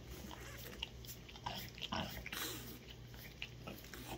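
A French bulldog licks close to the microphone in repeated wet, slurping strokes with small snuffling and smacking noises, fairly quiet and with no talking.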